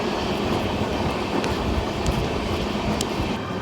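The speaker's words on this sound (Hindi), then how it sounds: "सामने से आ रही है जी जन सेवा एक्सप्रेस, वो देखिए जो कि अमृतसर की तरफ जा रही है।" Jan Seva Express passing in the opposite direction near Jalandhar City Junction, heard from aboard another train as a loud, steady rumbling roar of wheels and rushing air that fills the whole stretch.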